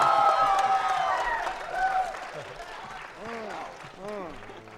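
A live panel audience at SXSW celebrating Sonic the Hedgehog's 25th anniversary breaks into applause and cheering: a dense wash of clapping with scattered whoops that gradually thins out, while a voice starts speaking near the end.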